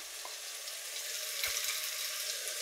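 Garlic and spices sizzling in a frying pan, a steady close hiss of frying oil with a faint clink partway through, continuous and unbroken.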